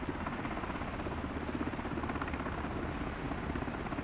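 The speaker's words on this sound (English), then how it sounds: "So the helicopter that we chase up and down the border" A helicopter flies near the Baltic border, its rotor and engine giving a steady, dense thrumming roar that holds at a constant level throughout.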